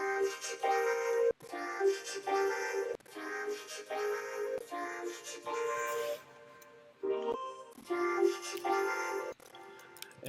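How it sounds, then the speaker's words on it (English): Vocoded vocal in a future bass track, a harmonically rich robotic voice sung in chopped phrases with abrupt gaps and stops, fairly quiet overall and heard on its own. "This section is actually just a vocoded version of that vocal."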